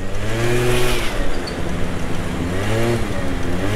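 An 85 SX motorcycle accelerating through town, its engine note climbing steadily, dipping at a gear change, then climbing again, close and loud with traffic noise around.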